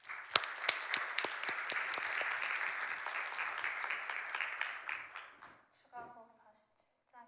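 A church congregation bursts into sustained applause, loud and dense for several seconds, then fades out as a voice begins speaking.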